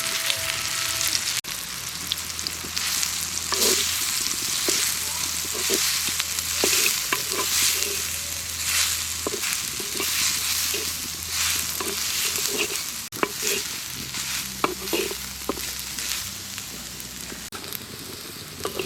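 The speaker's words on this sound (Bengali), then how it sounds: "ওই তেলেই সোয়াবিনটা ভেজে নেব" Soya chunks fry in hot oil with a continuous loud sizzle, broken by repeated scraping and clattering as they are stirred in the pan.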